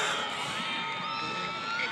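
A high school soccer crowd from Sachem East cheers and shouts in the stands, a dense, steady roar of many voices at mid distance.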